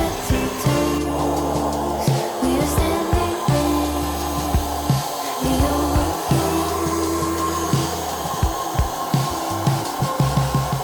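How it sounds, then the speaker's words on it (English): A wet and dry vacuum sucks water out of a boat's engine bay, giving a steady motor whine broken by gurgling, slurping gulps and bumps as the hose pulls water, loud and close, with no talk. "We used a wet and dry vacuum to try and speed the process up"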